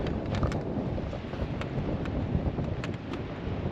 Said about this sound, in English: it's a bit windier here and a bit more chilly